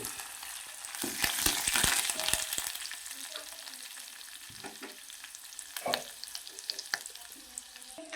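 Curry leaves sizzle in hot tempering oil for an old-style kandi kattu lentil dish, with a burst of crackling early on that settles into quieter frying and occasional stirring clatter, close up with no talk.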